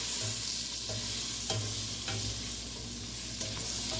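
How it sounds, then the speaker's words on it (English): Butter and oil sizzle steadily in a pan close by while a spoon stirs through them, scraping softly every second or so, for a pumpkin soup. "We're going to stir this butter and oil around"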